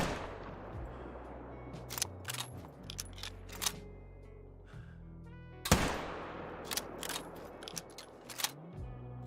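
Sharp rifle shots fired at a black bear in a hunting video game, one loud near crack near the middle with a few smaller clicks and thumps scattered around over low game ambience, no talking.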